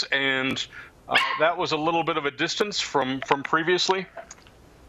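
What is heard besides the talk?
dog barking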